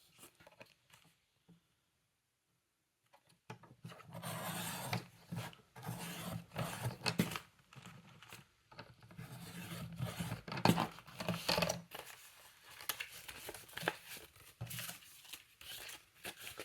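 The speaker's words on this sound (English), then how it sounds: "I am just going to use scissors to get the rest of that off." Scissors cutting through paper from a watercolor bird and poppy junk journal printable, close and quiet: a run of crisp snips and rustling, crinkling paper after a brief near-silent start.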